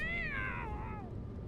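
A cat gives one clear, drawn-out meow that wavers and falls in pitch, heard close over a low background hum.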